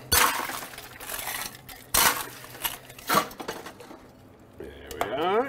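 Glassware clinking while cocktail ingredients, including lemon balsamic, are combined in a glass at a bar: three sharp bright clinks spaced about a second apart, then quieter handling and a swirling pour toward the end, with a person talking throughout.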